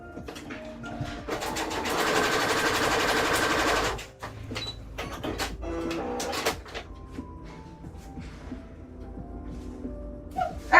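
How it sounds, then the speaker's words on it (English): A sewing machine stitches a Rhea cosplay in a steady whirring run of about three seconds, then stops, followed by short clicks, fabric handling and a few quieter intermittent stitching bursts. "I just want to make sure we are good with the sewing on this."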